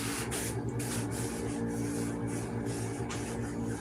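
A part is sanded by hand in a series of quiet, rhythmic rasping strokes over a low steady hum, with no talking.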